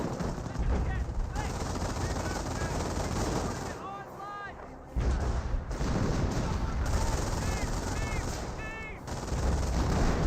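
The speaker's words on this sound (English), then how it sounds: "Wehrmacht sniper firing away." Gunfire in the World War II strategy game Company of Heroes as a Wehrmacht sniper shoots amid machine-gun bursts, a busy, continuous battle din of rapid shots and booms with a voice commentating over it.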